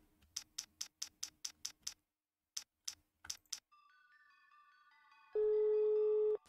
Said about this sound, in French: j'ai l'impression que son téléphone sonne